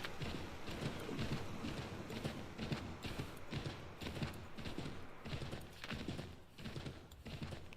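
Steady horse hooves clip-clop while riding across open country in Assassin's Creed III, a continuous rhythmic trot that stays close and fairly loud throughout, with no talking.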